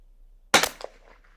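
A single sharp crack from a Bergara BMR .22 Long Rifle, close and sudden after silence, followed by a short fading echo.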